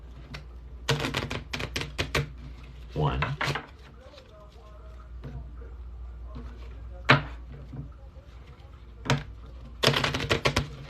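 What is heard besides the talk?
shuffling tarot cards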